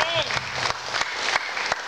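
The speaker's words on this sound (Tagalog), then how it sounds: "grabe yung palakpak niyo sa Panginoon" Applause from a church fellowship group gathering in Hong Kong, a broad steady clatter of many hands clapping for about two seconds with a few sharper claps standing out.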